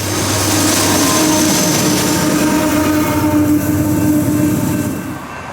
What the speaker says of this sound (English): I caught Amtrak number 1 again, complying with Procedure XH through Missouri City.